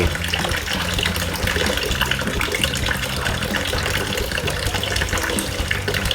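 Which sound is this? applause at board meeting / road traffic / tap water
tap water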